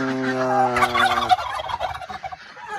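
A turkey gobbles loudly and close by, a rapid rattling burst with a few softer calls trailing after it.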